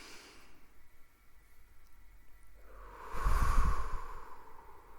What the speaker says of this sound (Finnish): Hengittäkää vielä syvään kanssani.